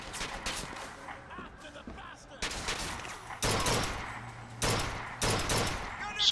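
Bursts of rapid gunfire in BioShock Infinite crack out in several volleys, loud and close, with game-like sound effects and faint talk between shots.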